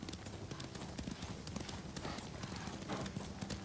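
Horses gallop with steady, dense clip-clop hoofbeats in the video game Ghost of Tsushima, a continuous close rhythm with an occasional faint whinny and game sounds layered over it.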